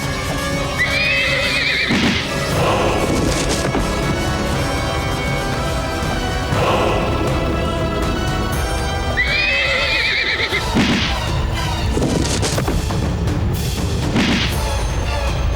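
Horse neighing in a historical Rajput drama set among Afghan captors, two loud whinnies about eight seconds apart over steady hoof clip-clop and commotion, with no talk.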